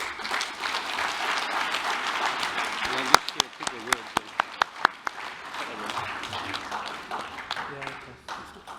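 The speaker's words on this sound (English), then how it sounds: "Round of applause for Chanda, please." An audience at a national roll of honour retirement ceremony applauds, steady clapping for a few seconds before a handful of sharp isolated claps ring out and the applause tapers away, with voices underneath.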